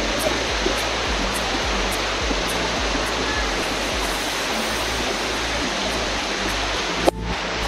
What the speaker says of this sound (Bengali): শুনতে পাচ্ছেন যে ঝর্ণার কি পরিমাণ সাউন্ড, পানির